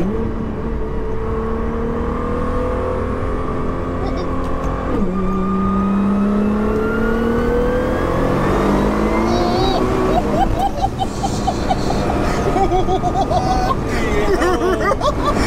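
A heavily modified 1576 bhp JDM Nissan R35 GT-R revs and accelerates loudly and close by, its engine note rising and falling in long sweeps while people chatter excitedly over it.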